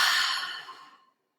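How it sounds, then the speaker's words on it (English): A single long, breathy exhale during a yoga class, soft and close, fading out to silence after about a second. "start to take deeper inhales, and deeper exhales"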